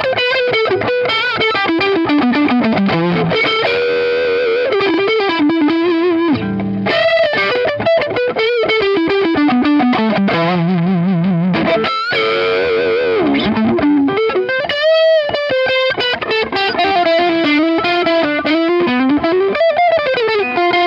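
An ESP LTD MH-400 electric guitar played through distortion rings out loud and continuous, with sustained riffs and melodic lines that sweep up and down for about twenty seconds, briefly cutting out near the end before resuming, and no talking over it.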